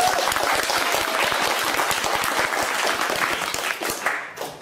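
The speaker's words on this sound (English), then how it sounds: "So clap for him," Audience applause at a community sustainability event, a dense, close burst of many clapping hands that tapers off near the end.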